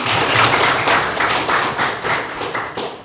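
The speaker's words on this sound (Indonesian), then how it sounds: "berikan tepuk tangan" A group of students claps hands together during a mathematics classroom session, producing dense, loud, continuous applause with irregular bursts lasting about three seconds, no voices over it.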